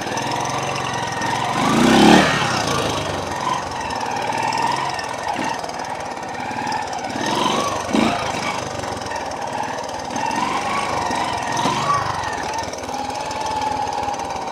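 A 1985 Honda trail motorcycle is ridden, its engine droning steadily and moderately loud with wind rush and occasional louder bumps and revs, without speech over it.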